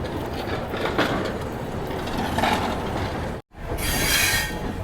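The Ganga Kaveri Express under way, heard from on board as a loud continuous rumble of rolling wheels with faint squeal, cut by a brief dropout before the noise swells again.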